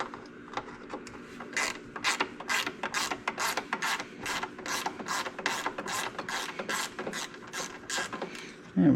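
Nuts being worked off a riding mower fuel pump with a wrench, heard as a steady run of close, crisp ratcheting clicks in a regular rhythm, with a louder clunk right at the end.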